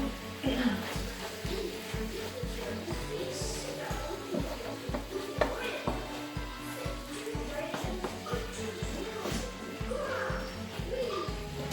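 Seasoned ground meat fries in a pan for a French-Canadian pâté chinois, a steady sizzle broken by regular scraping and stirring knocks of a utensil, with someone talking over it.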